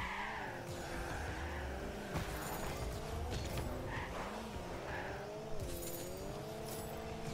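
A car drifting in Rocket League, with a steady engine whine that rises and falls as tires squeal through the slide, plus a few sharp knocks and bumps. The sound stays loud and continuous without speech.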